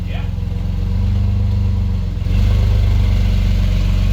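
A Ford F150 truck pulls out with an aftermarket exhaust, its deep rumbling idle close and loud, then rising in a stronger burble midway as the truck moves off, with a brief voice near the start.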